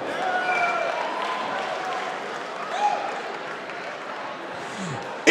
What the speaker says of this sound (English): So round of applause one more time.